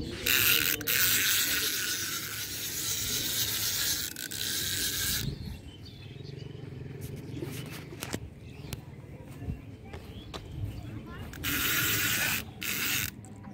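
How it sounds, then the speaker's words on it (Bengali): Fishing reel ratchet on a rod while landing a rohu at a pond, bursts of rapid buzzing clicks that stop and start, with a voice and faint rustling between them. "ছিপটা ঘুরিয়ে নিন না।"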